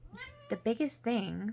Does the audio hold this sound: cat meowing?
yes